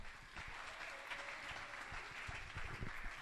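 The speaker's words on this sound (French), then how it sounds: "On acclame fortement, messieurs et dames." Audience at a university academic session on generative AI applauding after a talk, a steady wash of clapping from many hands, fairly distant and even throughout.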